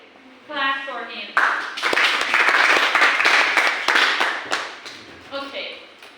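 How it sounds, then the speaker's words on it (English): Classroom clapping for a student who answered correctly, a burst of many hands lasting several seconds, with a teacher's voice just before and after. "Clap for him."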